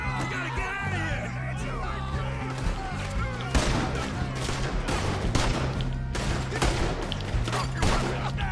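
Rapid volleys of gunfire ring out during a video game shootout, loud and dense from the middle onward, with a shouting voice and background music at the start.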